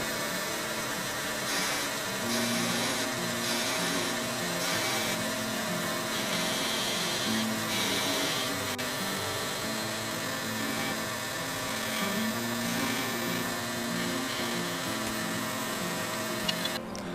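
A wood lathe spins steadily while an olive wood whistle is parted off and polished, giving a continuous loud machine drone with intermittent scraping and rubbing textures throughout.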